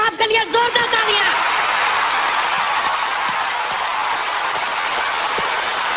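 Loud, sustained audience applause for Amitabh Bachchan on the Kaun Banega Crorepati stage, a dense steady wash of clapping after a brief spoken introduction at the start.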